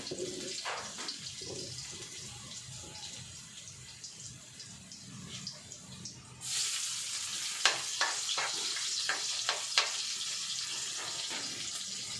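Garlic and then onion are sautéed in a pan. A quiet stretch of stirring and clinks leads into a sudden loud, steady sizzle with sharp pops and scrapes of the utensil.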